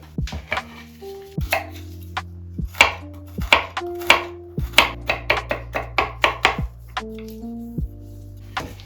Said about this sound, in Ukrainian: Гарний аромат нам дає, як ви здогадались, це часник. Його треба подрібнити.